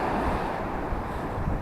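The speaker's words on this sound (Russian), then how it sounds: "Ну и сегодня море волнуется." Rough sea waves breaking on an eroding Crimean shore, a steady dense roar of surf mixed with wind buffeting the microphone, continuous and fairly loud with no talk.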